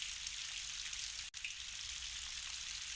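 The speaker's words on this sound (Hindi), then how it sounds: "तेज बारिश हो रही थी।" Heavy rain falls in a steady, dense hiss with no pauses, broken by a single brief dropout, and no voices are heard.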